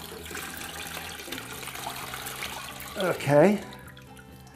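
Brine gushes and splashes from the cavity of a lifted turkey into a sink or container, a short loud pour after a stretch of background, with a voice speaking briefly.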